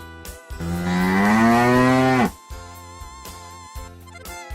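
A cow gives one long, loud, rising moo lasting about two seconds, followed by background music with rhythmic beats.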